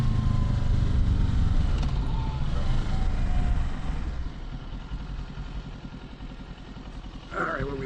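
A Kawasaki Ninja 650 motorcycle rides along a road, its engine roaring loud and close at first, then easing to a lower drone as it slows, with wind rush throughout and no talking.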